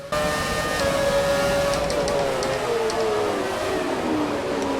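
Screaming V8 Formula 1 engine from the F1 2017 racing game, a 2008 McLaren against a 2007 Ferrari and 2006 Renault, holding a loud high whine that sweeps steadily downward as revs fall, continuous and close throughout.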